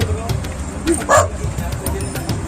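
A dog gives a short bark and yip over background chatter and people's voices nearby.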